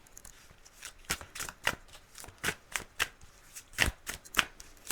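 A True Crime Oracle card deck is shuffled close up, giving a run of quick riffling bursts and soft slaps at an uneven rhythm, with no voices over it.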